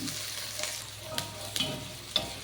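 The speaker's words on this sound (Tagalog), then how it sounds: "Igisa natin yung sibuyas hanggang sa maluto" Onions sautéing in a pan for a chicken and chayote tinola: a steady broadband sizzle runs throughout, punctuated by three or four sharp scraping clicks from a stirring utensil, close and moderately loud with no talk.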